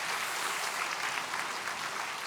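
A church congregation claps together in a dense, sustained round of applause during a Korean Baptist Sunday service, filling the space evenly without pause.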